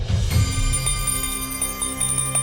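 A small bell rings with quick repeated strikes, its bright metallic tone lingering and humming between hits.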